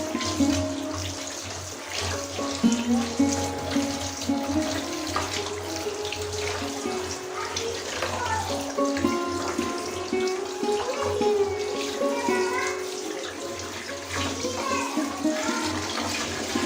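Kitchen tap water running while cut vegetables are washed by hand, a continuous close splash and trickle with irregular sloshing and clinks, no talking.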